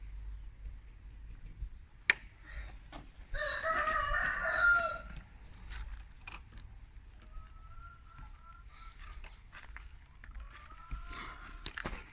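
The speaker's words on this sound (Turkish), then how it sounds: "Tavuklar kuduruyor dışarı çıkamıyorlar ya." Chickens clucking and squawking nearby, with a rooster crowing once in a loud burst, followed by scattered softer calls.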